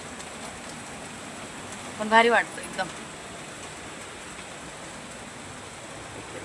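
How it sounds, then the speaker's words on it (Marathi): Heavy rain pours outside a house under a darkened sky, a steady broadband hiss that runs unbroken throughout while someone speaks briefly over it. "पाऊस बघा किती जोरात चालू झाला आहे"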